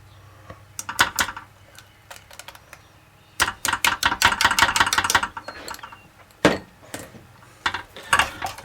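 A cornstarch tapioca pudding mixture is whisked in a bowl, with bursts of rapid clicking strokes against the sides separated by pauses and a few sharper knocks.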